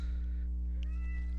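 A ticklish cat gives a single short meow, close and fairly faint over a steady low background hum.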